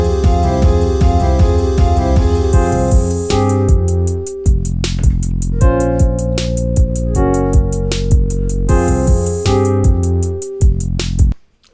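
Hip-hop beat remaking a song, with heavy booming bass, crisp hi-hats and layered melodic synths that drop out briefly then return in a steady, dense loop before cutting off abruptly.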